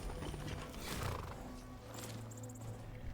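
Horse in the game Skyrim whinnies loudly while hooves clip-clop beneath it, a short close burst with game ambience and no talk.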